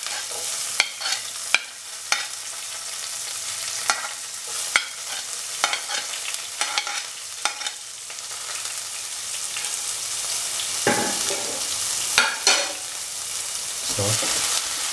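Ginger, garlic and shallot fry in a pan with a constant close sizzle, while a utensil scrapes and taps the pan in repeated stirring strokes.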